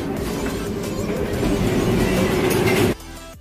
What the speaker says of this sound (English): The plane train.